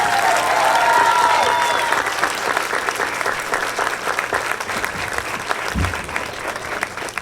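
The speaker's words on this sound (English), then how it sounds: "let's give her a big round of applause." A graduation audience gives Mrs. Allen a loud, sustained round of applause, with many hands clapping close and continuously at a steady level.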